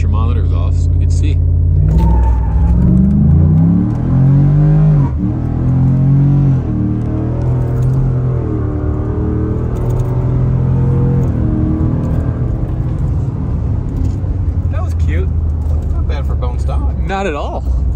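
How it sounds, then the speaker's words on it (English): Inside a pickup truck at full throttle on a Texas road, a loud low engine drone climbs in pitch through the gears, with shifts and road rumble, while people talk over it. "Just seeing how fast the truck will go."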